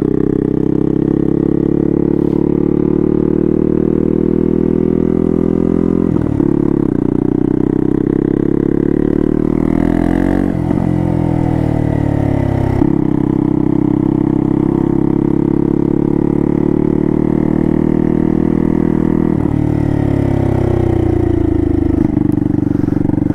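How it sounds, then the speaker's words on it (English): Turbocharged Honda Grom with a CBR engine swap being ridden, a loud, close, buzzy exhaust drone holding steady with repeated rises and dips as the throttle opens and closes, wind rush over it. "it's probably really hard to hear it over the exhaust"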